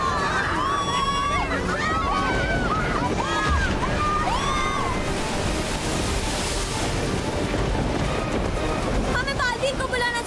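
Huge tsunami waves crash and roar around a yacht, a continuous loud rush of water and wind with frantic, overlapping shouting voices on top throughout.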